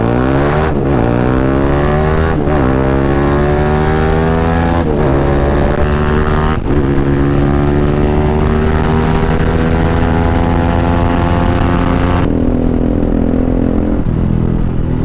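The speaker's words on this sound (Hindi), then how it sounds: "ये देखो भाई कितनी सारी बाइक्स आ रही हैं" Several sport motorcycles roar past one after another, engines revving and pitch sweeping as each approaches, a continuous loud drone of bikes arriving with no talk over it.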